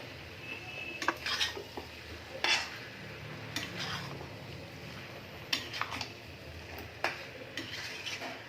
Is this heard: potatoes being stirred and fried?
yes